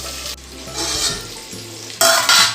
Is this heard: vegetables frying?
yes